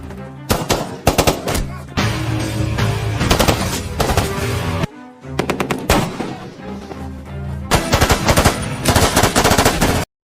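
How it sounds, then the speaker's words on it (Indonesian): Rapid bursts of automatic gunfire in a film's desert village attack, loud and dense, with a brief pause midway before the shooting resumes just as intensely. "Kini desa itu pun telah riuh dengan suara tembakan di mana-mana."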